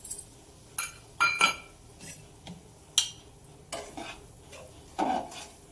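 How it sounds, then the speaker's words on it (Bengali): Semolina stirred into melted ghee with crushed green cardamom in a pan, with irregular scraping strokes and light metallic clinks of the spoon against the pan, quiet and close. "ঘিয়ের মধ্যে সুজিটা খুব ভালোভাবে নেড়ে নেব"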